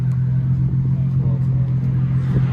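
A deep, steady Nissan 350Z exhaust flowing into a Y pipe rumbles at idle with a low droning tone and slight fluctuations, close and continuous throughout.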